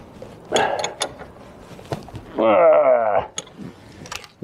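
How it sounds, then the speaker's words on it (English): A wrench tightens the rear axle nut on a Ural motorcycle: scattered metallic clicks and knocks, then a short rasping ratchet-like burst, close up in a quiet workspace. "Now when you go to tighten up the nut on this side"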